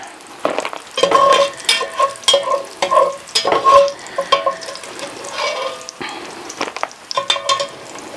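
Bacon grease sizzling and crackling in a pan on the stove, with steady frying hiss, stirring scrapes and some clinks, close and moderately loud throughout, no talking.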